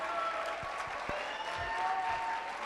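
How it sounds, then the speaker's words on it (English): A crowd at an awards celebration applauds the recipients with a steady wash of clapping, moderately loud, with a few dull thumps and knocks mixed in. "Please give them a round of applause."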